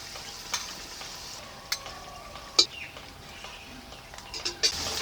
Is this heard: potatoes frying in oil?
yes